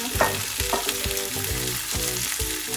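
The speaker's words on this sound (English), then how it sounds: "Let's leave them to sizzle on one side for 3 minutes" Zucchini sizzles and crackles in hot olive oil in a pan, with a few clinks of a utensil stirring, close and steady.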